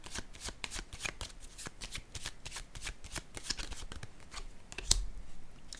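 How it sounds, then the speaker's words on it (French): Tarot cards are shuffled and drawn up close: a rapid run of crisp riffling flicks and slaps, with a sharper snap near the end as a card is pulled, and no voices. "je vais piger une autre carte ici"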